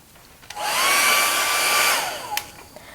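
A hair dryer blows steadily on the back of wet fabric paper, switching on with a rising whine, running loud and close for over a second, then cutting off, with faint handling noise around it.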